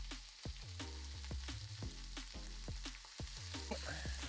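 Close, crackling sizzle of food frying in hot oil, with repeated clattering knocks and scrapes of stirring or turning at a brisk, uneven rhythm.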